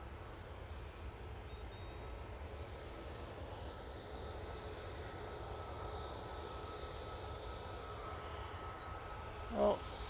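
Ryanair jet departing Manchester Airport, a faint, distant and steady engine rumble that swells slightly toward the end, with a brief thump near the finish.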